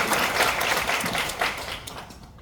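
A lecture hall audience gives a short, steady round of applause before a professor's talk, fairly close and fading out toward the end.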